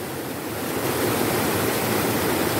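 Fast-flowing river water rushes in a steady, dense roar, close and loud, with no voices over it.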